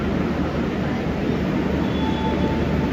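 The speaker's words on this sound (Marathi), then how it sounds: "फायनली ट्रेन भेटली आपली" A train at a railway station: a loud, steady low rumble fills the whole stretch without pause, with a faint thin whine drifting above it.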